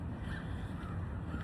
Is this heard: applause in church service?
no